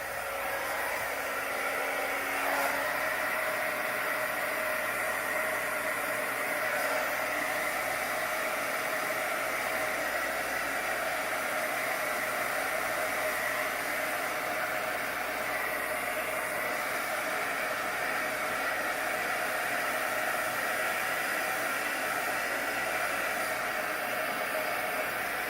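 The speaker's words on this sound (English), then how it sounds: "A lot of times with the heat gun, unlike with the torch, it takes it just a little bit longer" A heat gun blows hot air over freshly poured pink and yellow acrylic paint, giving a steady, unbroken whooshing hiss at close range.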